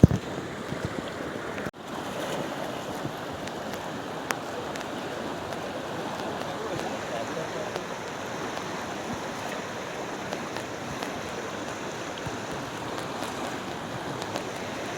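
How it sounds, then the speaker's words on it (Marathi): Heavy monsoon rain pours by the water at a riverside fishing spot during the first rains of the season, a dense, steady hiss that stays close and even throughout. "पाऊस आला ना जबरदस्त"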